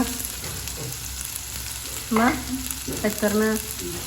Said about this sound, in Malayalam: അപ്പോൾ എണ്ണ ചൂടാകുമ്പോഴേക്ക് കുറച്ച് ഉലുവ ഇട്ട് കൊടുക്കുക. പിന്നെ വലിയ ഉള്ളി.